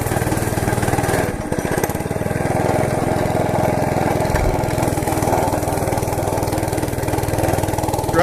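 A Monter Moto MMB80 gas minibike engine running at a steady, loud, close drone throughout, with a brief dip in pitch partway through and no talk.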